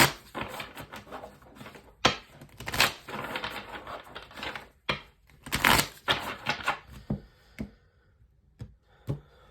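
Oracle cards shuffled and dealt by hand for a Taurus full moon reading, a run of crisp riffling, flicking and tapping bursts with brief pauses between them, close and fairly loud with no talking.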